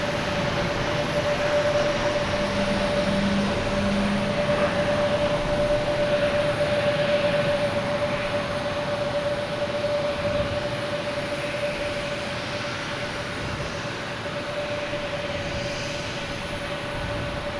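American Airlines airliner departing Boston Logan for Harrisburg, a steady broadband jet engine roar with a sustained whine, constant and fairly loud throughout, with no talk.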